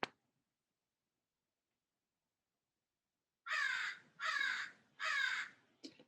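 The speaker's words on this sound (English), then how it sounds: "Hey, crow person, up there in the tree." After a stretch of silence, a crow in a backyard oak tree gives three loud, harsh caws in an even rhythm, then a brief fourth call.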